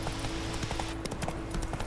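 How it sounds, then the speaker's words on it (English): Horse hooves clip-clop at a brisk gallop in The Witcher 3 on PlayStation 4, a rapid, even drumming of hoofbeats that stays loud and close throughout, with no talking. "let me get my horse back"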